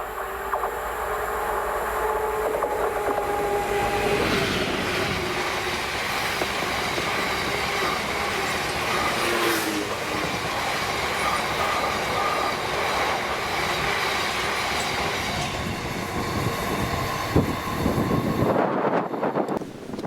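Freight train 6S52, hauled by Class 66 locomotive 66789 from Hunslet Tilcon towards Mossend, passes close by in Scotland, a loud continuous rumble of wheels and engine with squeals and rhythmic clatter throughout.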